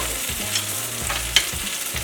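Eggplant fries in a pan of sesame and olive oil, a close, steady sizzle with crackling bursts and occasional stirring scrapes, no voices.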